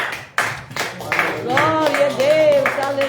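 A church congregation claps hands joyfully in rhythm during a worship service, sharp repeated claps at first, then blending under a voice speaking and singing.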